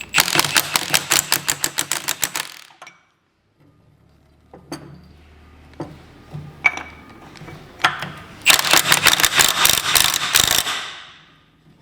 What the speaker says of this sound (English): now we'll get the rattle gun